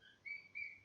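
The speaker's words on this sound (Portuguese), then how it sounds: "Vocês vão ouvir aí no fundo um passarinho." A small pet songbird being cared for indoors chirps quietly in the background, giving two brief high tweets about a quarter second apart, faint and alone without any talking.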